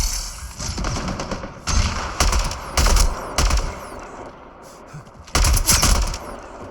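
Repeated bursts of gunfire in the sci-fi shooter game Mass Effect Andromeda, loud clustered volleys separated by short lulls over a steady background din, with no talking.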